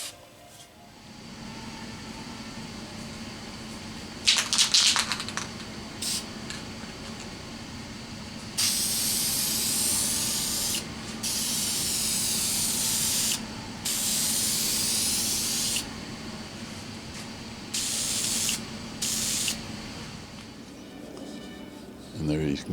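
Lacquer finish sprayed onto a wooden wall robe hook: long, loud hissing bursts of spray, broken by short pauses, over a low steady hum.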